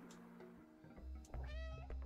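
A cat meows in the video game Stray, a few clear in-game cries over a low background rumble of game ambience.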